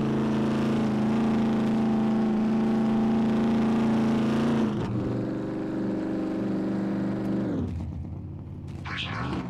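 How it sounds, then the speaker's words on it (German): Loud car engine in the survival video game SCUM drones at a steady roar, then the pitch drops and shifts as it slows, with the rumble thinning out near the end. "Die Karre ist so ultra laut"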